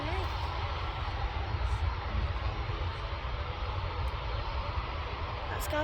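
Ryanair airliners taxi at Manchester Airport, a steady broadband jet engine roar rumbling continuously at mid distance with a faint voice over it.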